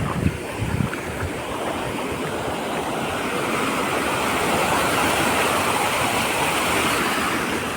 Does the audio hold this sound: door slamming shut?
no